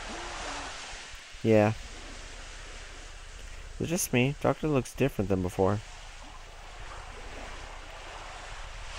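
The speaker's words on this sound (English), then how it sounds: "Is the water always that loud?" Loud ocean waves beside a ship in a video game form a constant, heavy wash of surf and wind noise, with voices talking briefly over it.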